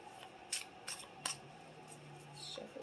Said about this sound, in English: We shuffle just a little bit more.